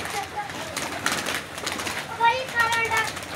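Pigeons cooing softly nearby outdoors, with a few murmured calls under a person talking and faint background activity.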